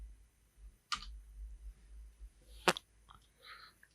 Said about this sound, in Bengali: তো নিচে আমরা চলে যাচ্ছি এন্টার দিয়ে।